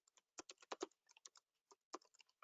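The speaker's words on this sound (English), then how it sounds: "I'm typing it in right now." Typing on a computer keyboard during an online meeting: quiet, close keystrokes in quick irregular bursts with short pauses, and no talk.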